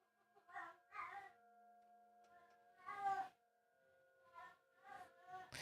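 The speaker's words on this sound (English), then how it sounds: "So that's the cat" A pet cat named Lily meows repeatedly indoors, several drawn-out, whiny calls spaced across the moment, close and fairly quiet against a steady background hum.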